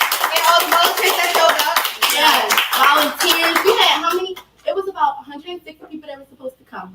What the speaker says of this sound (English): Can we just give a clap for that?